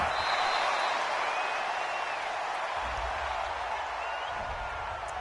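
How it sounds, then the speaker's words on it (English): Home crowd roaring steadily in a PS4 American football video game, a dense, continuous wash of cheering that fills the whole stretch without breaks. "This home crowd, they're happy with that call."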